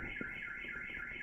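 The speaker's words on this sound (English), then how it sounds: "We have an auto alarm going off here." A car alarm wails outside, its steady looping siren tone cycling continuously and moderately loud against a low background hum.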